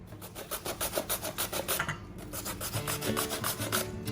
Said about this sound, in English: So I like to use a larger grater to get a nice thick grate.